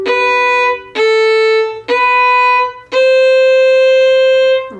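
A fiddle plays four sustained bowed notes, starting on G, each held for about a second with short breaks between them, clear, close and alone.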